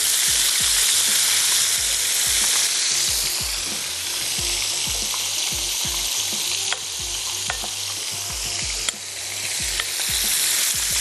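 Flour-coated food deep fries in hot oil, giving a loud, continuous crackling sizzle with dense popping and bubbling that runs unbroken for about eleven seconds, with no voices.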